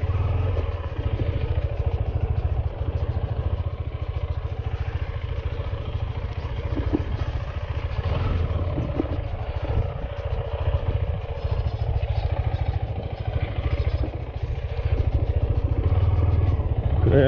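A motorcycle engine idles steadily and fairly close during a ride to Burude Falls in North Karnataka, a continuous low rumble with light mechanical clatter and no talk over it.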